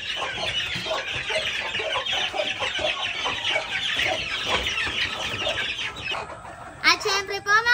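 Hens cluck among month-old chicks in an old breeding pen, with a dense, close chorus of high peeping chatter and a few louder, sharper clucks near the end.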